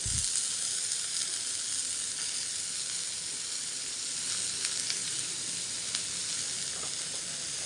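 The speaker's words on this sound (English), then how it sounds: "Saute this. Add the padwal." Green chili and padwal, or snake gourd, sauté in hot oil, giving a steady bright sizzling hiss close up, with a few faint scrapes and no talking.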